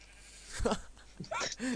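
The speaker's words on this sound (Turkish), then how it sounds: "koyunlar resmen gelin bana koyun diyor" Sheep bleat in a Minecraft village where pigs and cows also roam, giving two short, close, nasal cries about half a second apart over faint background ambience.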